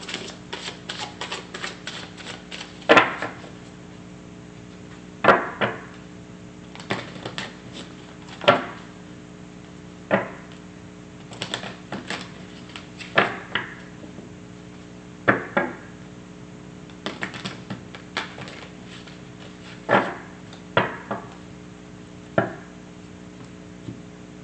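Tarot cards being shuffled in quick bursts of crisp riffling and tapping, repeated several times with short pauses between, close up over a steady low hum.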